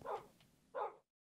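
A Minecraft dog gives two short, clear barks, one at the start and another after a brief pause, moderately close with no talking over them, then cuts to silence.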